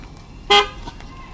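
A single short car horn honk blares out clearly, lasting about a tenth of a second, set against steady low street background noise.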